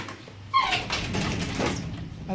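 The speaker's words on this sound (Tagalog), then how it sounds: "At may mga kumakatok tayong aso dito sa labas." Dogs outside a room where a Tamiya Japan Cup Junior Circuit slot-car track is being unboxed, giving a short whine and scratching or knocking at a door, fairly close and moderately loud.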